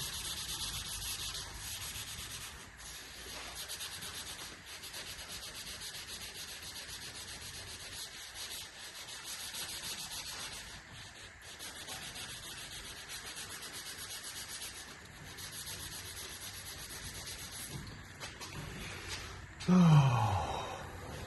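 Slow, repeated wet sanding strokes rub across a body panel before paint, a quiet, soft scuffing rhythm that continues steadily, with a brief louder scrape near the end.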